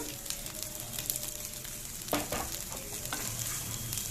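Rice being stirred in a hot frying pan for egg fried rice, a steady close sizzle with scraping stirs and a few louder clatters of the spoon against the pan.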